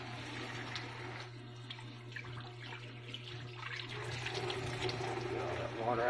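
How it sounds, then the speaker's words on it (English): Food being rinsed in a bowl under running water, a steady splashing and trickling in a home kitchen with a constant low hum behind it and some faint voices. "Actually, I'll just rinse the whole bowl off."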